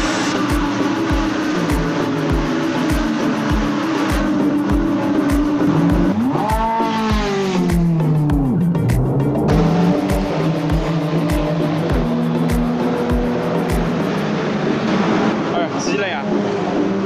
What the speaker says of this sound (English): Hear the roar of the engine.